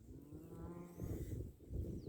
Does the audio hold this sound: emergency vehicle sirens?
no